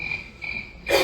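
A single cricket chirrs steadily at night in a thin, high, continuous trill, cut off at the end by a sudden louder burst of noise.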